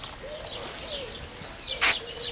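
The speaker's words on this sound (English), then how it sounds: "Looks like more like just birds out here" Birds calling and chirping in a zoo aviary, several short calls scattered over a steady ambient background with one louder chirp near the end, moderately distant.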